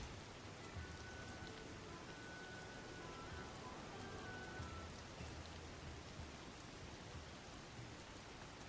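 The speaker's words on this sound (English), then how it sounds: "What an awful time for it to rain." Steady rain falls in the Zelda: Tears of the Kingdom game world, a constant even hiss with soft scattered patter and no pauses, faint and continuous throughout.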